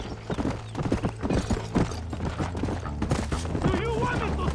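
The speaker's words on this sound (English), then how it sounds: "Get on your horse, amigo." Galloping horse in the Red Dead Redemption video game, steady clip-clop hoofbeats running throughout with a brief whinny, set against game music and background voices.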